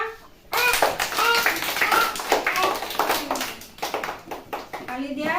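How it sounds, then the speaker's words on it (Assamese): Young children at an Anganwadi centre clap their hands together in a burst of scattered claps, with a voice and children's chatter mixed in. "তালি দিয়া"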